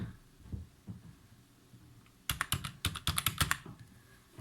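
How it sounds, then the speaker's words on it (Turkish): Quick run of keystrokes on a computer keyboard while a password is entered, a dozen or so close, crisp clicks in an uneven burst after a couple of seconds of quiet low hum. "Bilgisayarımızın şifresini gireceğiz şimdi."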